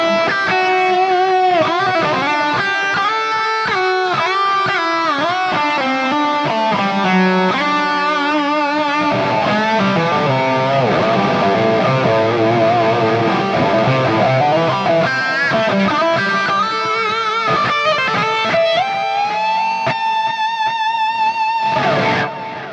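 An electric guitar plays a lead line through a Fractal FM9 modeling a Euro red amp with boost and drive pedal engaged, a sustained, saturated tone with bent notes and fluid phrasing, loud and alone.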